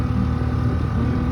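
Honda 5 horsepower outboard motor pushing a small dinghy near a marina: a steady, close engine drone with a buzzy, even hum and no talk over it.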